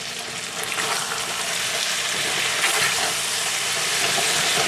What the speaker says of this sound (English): It's time to give them another stir.